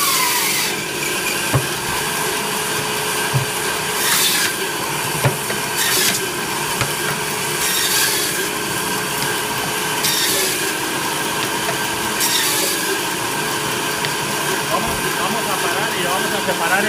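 An electric band saw in a supermarket meat department cuts through pieces of meat with a steady, loud mechanical whine and rasp, the blade's tone shifting slightly with each cut.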